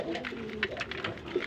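Local Golla pigeons in a breeder's loft coo softly, with a few short, throaty calls close by amid faint background rustle.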